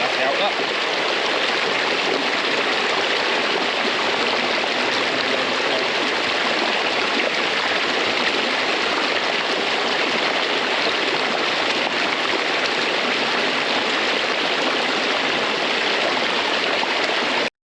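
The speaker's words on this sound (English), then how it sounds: "there's so much water running down through this gully" Heavy groundwater rushes down a gully toward a drain outfall, a loud, constant roar of flowing water with no break throughout.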